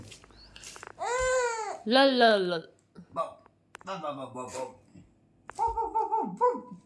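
A voice makes a string of drawn-out, wailing yelps in imitation of a dog, with short pauses between bursts.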